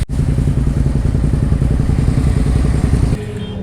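Motorcycle engines revving and running on a test track at a motorcycle expo, a loud steady rumble with rapid firing pulses that cuts off abruptly near the end.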